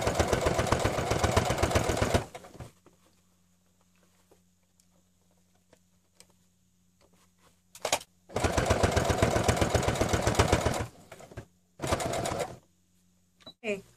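A sewing machine stitches a fabric band for a summer halter dress in African print fabric, loud close whirring bursts of a few seconds each, separated by quiet gaps with faint handling.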